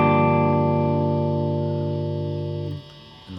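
Electric guitar sounding a sustained chord from a song, a rich distorted ringing tone that holds steady and slowly decays before being cut off near the end, with no voice over it.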